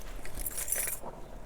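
Keys jangle and clink briefly at close range, a quick metallic rattle lasting about a second, with no talk over it.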